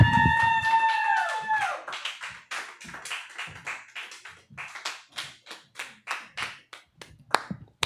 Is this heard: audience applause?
yes